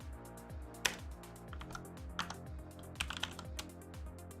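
Computer keyboard keys clatter in irregular bursts of close, crisp taps during a game development livestream, some strokes sharper than others, with a low musical hum underneath and no talking.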